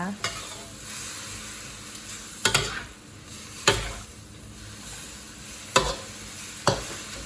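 Broccoli stir-fried with fatty pork in a pan, heard as a steady close sizzle with periodic sharp scrapes and clanks of a utensil stirring the food, no talk.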